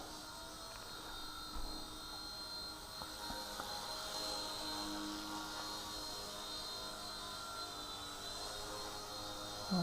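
An Eachine E129 RC helicopter with altitude hold hovers indoors close by, its small rotor and motor giving a steady, even whir with a high whine that holds for the full length with little change.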